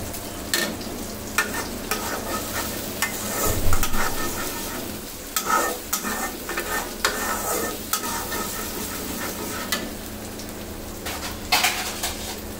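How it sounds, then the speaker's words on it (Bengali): Spice paste fries in a pan for spicy loitta (Bombay duck) fish bhuna, a loud close sizzle with frequent clattering stirs and spatula scrapes against the metal, without any voices. "এখন এই মশলাটাকে কিছুক্ষণ আমি ভেজে নিব।"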